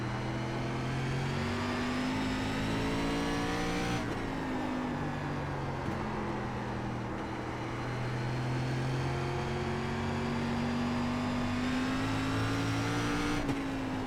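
An SRX race car engine roars through laps at Five Flags Speedway in iRacing, a loud sustained drone whose pitch climbs and drops at shifts and corners, alone without speech.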